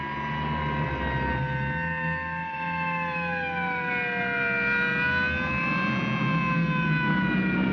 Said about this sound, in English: You couldn't possibly be surprised with all those sirens blasting.